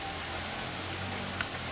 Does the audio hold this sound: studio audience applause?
no